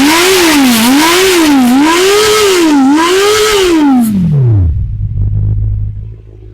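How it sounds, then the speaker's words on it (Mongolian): Honda CBR650R motorcycle engine, just started, revving up and down in repeated rising and falling sweeps at close range, then dropping back to a low idle rumble as it winds down. "За дуугийн сонсцгоо. Дөнгөж асаасан болохоор моторын дарга жоохон өндөр байна."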